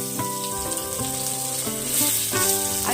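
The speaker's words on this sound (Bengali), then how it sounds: "আলুগুলো ভালো করে ভেজে নেব।" Cut potatoes frying in hot oil with white cumin tempering in a kadai, steady loud sizzling and crackling throughout, with a bright hiss swelling near the end and no talking.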